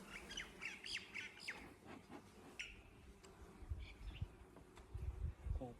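A steady low hum of many bees buzzing around hives, with scattered chirps and faint squawks from birds nearby.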